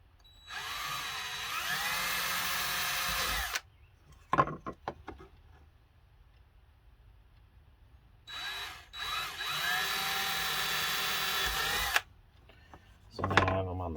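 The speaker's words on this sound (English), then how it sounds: "Just drill this in here." A power drill bores into a round six-inch PVC backing plate for a sea cock and thru-hull, two sustained whining bursts of drilling separated by a quiet pause with brief clatter and handling noises, close by.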